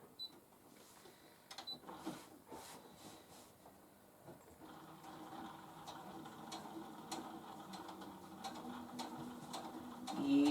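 A sewing machine runs steadily while top stitching a fat quarter cosmetic bag, giving a quiet, continuous mechanical whir with faint ticking, close by and without talk.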